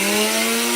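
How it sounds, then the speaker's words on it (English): A power sander working on a boat floor, droning loud and close with a continuous buzzing hum and gritty abrasive hiss through the whole short moment. "let me get back to sanding this thing out."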